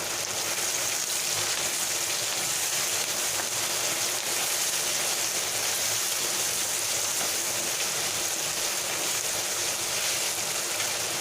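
Steady, dense rushing hiss of heavy rain fills the whole stretch, constant and unbroken with no voices.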